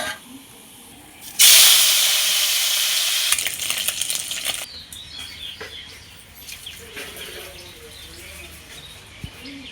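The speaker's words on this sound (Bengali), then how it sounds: "বাদবাকি মাছটা আমি একইভাবে ভেজে নেব" Pieces of moya fish fry in hot oil in a pan: a sudden loud burst of hissing sizzle that gradually settles into softer, crackling bubbling, with faint clinks and background sounds.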